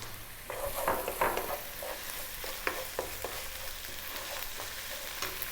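Garlic ginger paste sizzles and fries in a pan over high heat, a steady crackling hiss with frequent sharp scraping clicks as it is stirred, close and alone without voices.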